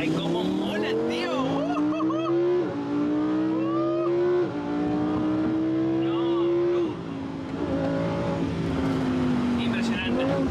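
A Lamborghini engine and exhaust while driving in Miami, a loud, near drone that climbs in pitch through each gear and drops at every shift, with people talking over it.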